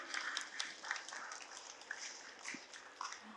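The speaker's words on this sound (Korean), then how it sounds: "우리 박수 한번 보내드릴까요?" An audience at a Buddhist Dharma talk claps, with scattered individual claps rising out of quiet, fairly faint applause.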